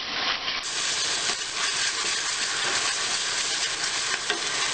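Onions frying in a pan with ginger-garlic paste being stirred over a medium gas flame while cooking chicken biryani, a steady loud sizzle and hiss with scraping stir sounds throughout, no talking.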